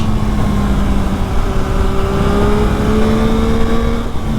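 A green 2021 Yamaha MT-09 motorcycle engine accelerates, its loud, close tone climbing steadily through the revs without a break.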